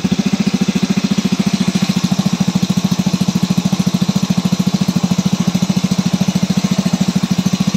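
A small engine on a Stels Kapitan motorcycle, freshly rebuilt in a tent, idles on leftover petrol with a steady, fast, even putter, loud and close throughout with no talk.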